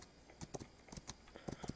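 Horse hooves clip-clop at a steady riding pace in the video game This Land Is My Land, a run of sharp, close hoof strikes with no talk over them.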